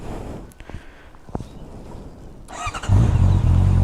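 Honda CBR 650R motorcycle, 2022 BS6 model with an Akrapovic exhaust, starting up after some small clicks and handling noises, then a loud, steady near engine rumble.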